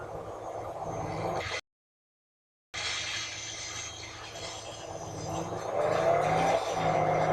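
A car is driven in the zombie video game Dead Island, its engine droning steadily on both sides of a brief silent gap and growing louder and rougher toward the end.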